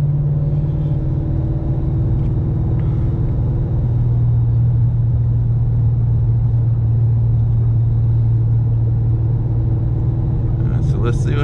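A 2010 Shelby GT500 with its low-boost fault fixed runs in third gear, giving a steady, loud low engine drone and rumble throughout, with a brief sharper burst near the end.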